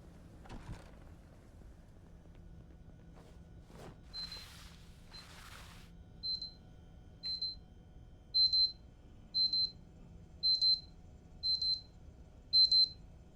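An episode-end alarm in Project Zomboid sounds as a series of short electronic beeps in a regular pattern, about eight bursts in growing clusters after a couple of soft whooshes, against a quiet background.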